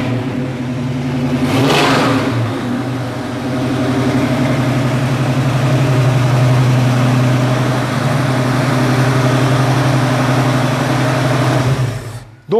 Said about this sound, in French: Tu veux montrer un peu le moteur qui tourne.